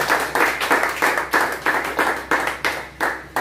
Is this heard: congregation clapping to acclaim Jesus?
yes